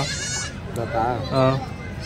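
Young goat kids at the weekly Tuesday goat and sheep market in Kadiri bleat in two or three short wavering cries, close and loud, amid market talk.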